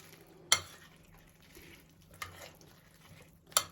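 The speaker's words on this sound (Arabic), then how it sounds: "هنقلب البتنجان مع الخلطه" Fried eggplant is turned over with a seasoning mixture in a pan: quiet, close stirring with three sharp scrapes or clinks spaced a second or two apart over a faint background hiss.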